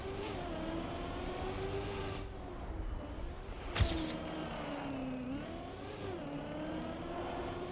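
A car engine drones steadily in a Trackmania race, its pitch rising and dipping as it speeds up and slows, with a sharp impact-like burst partway through, loud and continuous with no voices.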